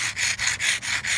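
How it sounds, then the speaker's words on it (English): Hand sanding softens the edges of a Fantasy Brown dolomite stone block, five or six quick, even rasping strokes back and forth, close and crisp, with no talk. "And then I am hand sanding."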